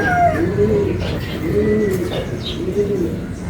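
Racing pigeons coo close by in a loft, with three rolling, rising-and-falling coos at a steady rhythm over low background rustle and faint chirps.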